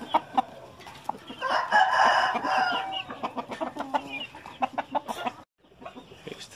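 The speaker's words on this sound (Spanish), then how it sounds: "Este empieza a cantar apenas." Young fighting-breed roosters of Brazilian-cross lines in a pen, one just beginning to crow, give a short rough crowing phrase amid repeated nearby clucks and scratchy rhythmic bird sounds.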